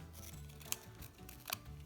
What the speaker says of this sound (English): I'm going to use my scissors, and I'm just going to trim very carefully the corners